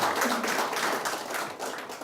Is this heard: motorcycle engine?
no